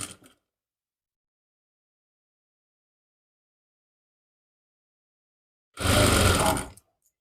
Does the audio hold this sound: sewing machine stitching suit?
yes